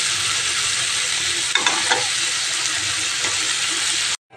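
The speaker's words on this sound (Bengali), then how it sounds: "জল দিয়ে দিলাম," Water poured into vegetables frying in a wok hits with a loud, steady sizzle, a few stirring scrapes and clatters breaking through before the sound cuts off abruptly near the end.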